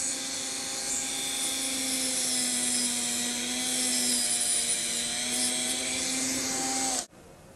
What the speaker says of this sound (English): So we're going to trim a little bit of collar off.